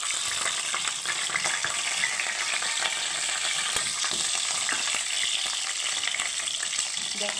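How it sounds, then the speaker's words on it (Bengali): Stuffed kakrol (spiny gourd) shallow-frying in hot oil in a home kitchen gives a steady, bright sizzle that stays even and crackling throughout, with no talking. "এইভাবে আমি কারকল পুরগুলো ভেজে নেব।"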